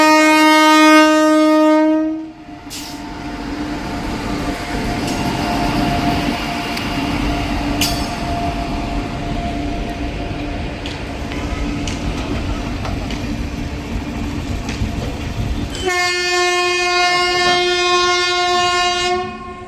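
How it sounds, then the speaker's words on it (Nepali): A slow passenger train rolls past with rhythmic clatter and rumble, framed by long blasts of a horn at the start and end. "स्लो हिँडिरहेछ यार यस्तो छ ट्रेनको हालत"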